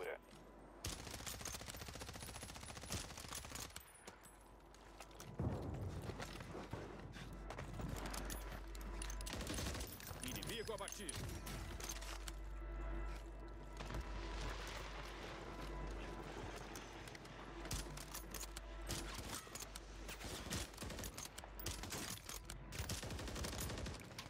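Warzone video game gunfire, with rapid bursts of automatic shots and scattered single cracks mixed with game noise, fairly faint, while a player talks over it now and then.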